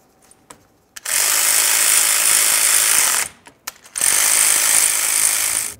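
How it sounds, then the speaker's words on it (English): A power tool drives axle mounting bolts on a 2003-2011 Mercury Grand Marquis rear axle shaft job. Two loud, sustained mechanical whirs of about two seconds each sit close up, with brief clicks between them and no talk. "As we install these bolts"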